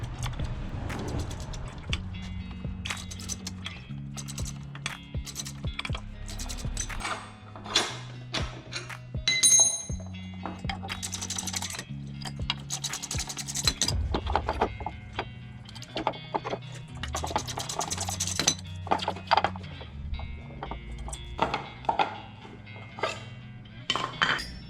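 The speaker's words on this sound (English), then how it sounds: "Pull this axle off of here. While the axle's on here, I might as well loosen these up" Metal tools clink and clank repeatedly, close and irregular, while a minibike's rear axle and sprocket are worked loose, with no talking.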